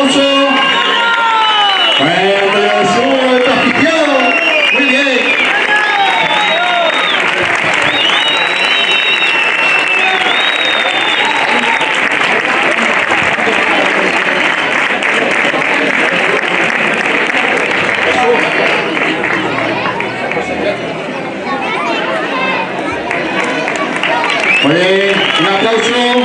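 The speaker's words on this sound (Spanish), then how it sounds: "Un aplauso." Loud, sustained audience applause with cheering and crowd noise at an outdoor race awards ceremony in Dos Torres, Córdoba, continuing steadily for the whole stretch with voices mixed in.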